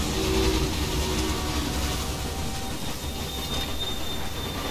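A train running in the railway-building video game Railway Empire, a continuous rumbling rail roll with faint wheel squeal and a thin high whine, steady throughout.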